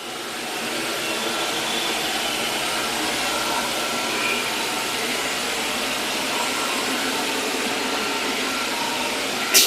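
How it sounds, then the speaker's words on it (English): A steady, loud motorized vacuum whine from an ICE i15B floor scrubber drones continuously as it sucks up water, with a brief clatter at the very end. "turn your machine back on now and just use the vacuum feature"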